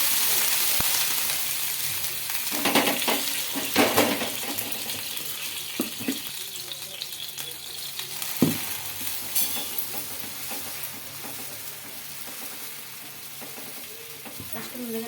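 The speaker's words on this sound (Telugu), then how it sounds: "దోశ వేయడం." Dosa batter sizzles steadily on a hot griddle (pan) for breakfast, with a continuous broadband hiss and a few scraping stirs or clinks, close and fairly loud.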